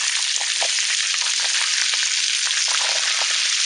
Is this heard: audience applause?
no